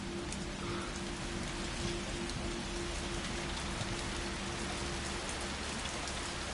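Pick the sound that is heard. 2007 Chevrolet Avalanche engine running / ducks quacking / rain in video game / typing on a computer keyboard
rain in video game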